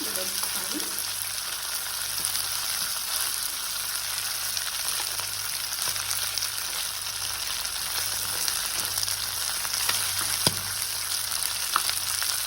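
Mutton chops and potato frying in oil in a home-style Indian kitchen, giving an even, continuous sizzle and hiss from start to finish with no talking.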